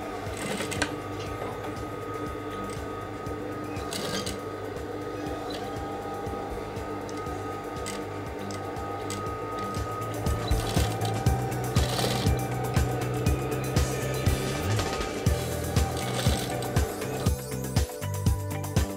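A sewing machine stitches a hair stitch along a seam on a Danshiki, running in a steady continuous whir that grows louder and more rhythmically pulsed in the second half, close to the microphone with no talking.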